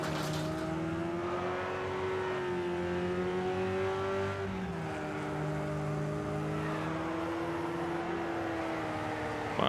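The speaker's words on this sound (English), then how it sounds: "I got the pedal to the metal here" A race car engine revs and accelerates in the Wreckfest demolition racing video game, a loud continuous drone whose pitch climbs, drops at a gear change and climbs again, heard without speech.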